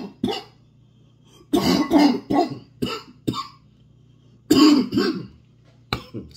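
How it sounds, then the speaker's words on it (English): A man coughs harshly in several bursts, a hacking, bronchitis-like cough with short pauses between fits, loud and close, with no talking. "Bad cough."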